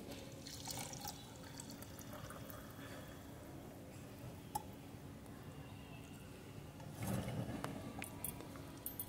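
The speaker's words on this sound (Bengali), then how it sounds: "এবার ঠান্ডা হওয়ার পর আমি এটাকে ছেঁকে নিচ্ছি।" Cooled homemade liquid organic fertilizer strained through a sieve, a soft steady trickle and drip of liquid with a brief louder pouring splash near the end, close and quiet, with no talking.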